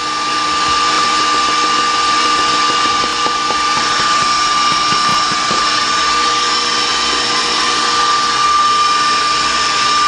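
A blender runs steadily through banana batter for breakfast bars, a loud continuous high-pitched motor whine with no pauses and no voices.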